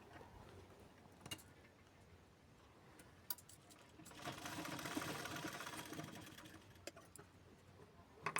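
Sewing machine stitching a lined blouse from the back side, a quiet steady run of stitching for a few seconds with faint ticks and clicks around it, distant and soft.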